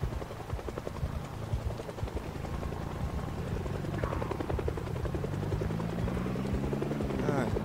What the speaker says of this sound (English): Go away, chopper.